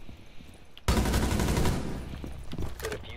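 A video game firefight plays out with a sudden loud burst of rapid gunfire that goes on for about a second. It then fades into scattered shots and rattling, with no speech.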